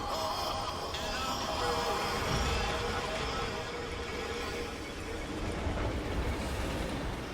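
Train passing inside the Destiny 2 video game world, heard as a steady, loud rumbling roll with a rattling, clattering texture that stays constant throughout.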